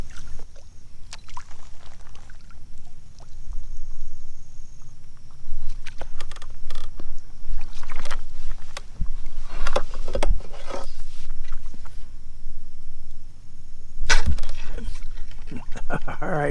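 A stand-up paddleboard kayak is paddled at night on saltwater flats, with intermittent splashes and drips of the paddle entering the water over a quiet, steady background, irregular strokes spaced a second or two apart.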